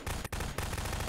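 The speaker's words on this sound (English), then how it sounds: "I hear guns!" Gunfire in a Prop Hunt video game, a fairly faint continuous rattle of rapid shots with one brief break, heard without talk.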